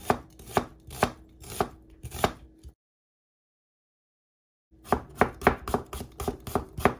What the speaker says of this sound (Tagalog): Hiwain lang po natin ito ng maninipis.